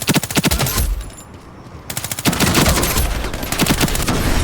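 Rapid, loud submachine gun fire from the online shooter game Ironsight crackles in dense automatic bursts, a short lull near the middle, then sustained continuous fire to the end.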